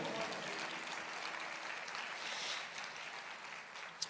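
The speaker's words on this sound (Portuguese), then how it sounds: "pode aplaudir o Senhor" A church congregation at a Baptist prayer meeting applauds in a dense, steady wash of clapping that holds for several seconds, fairly distant and even in level.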